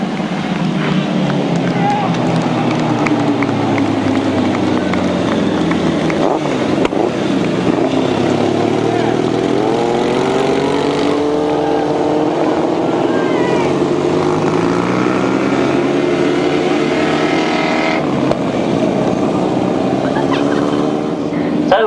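Grasstrack sidecar motorcycles race at a 1992 British Masters qualifier, their loud engines droning continuously and rising and falling in pitch as they pass and power around the track.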